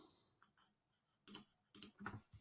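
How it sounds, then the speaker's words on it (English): Typing on a computer keyboard: faint, sparse key clicks near the start, then a few louder, closer bursts of clacking after a pause. "I'm not writing it. I'm typing it."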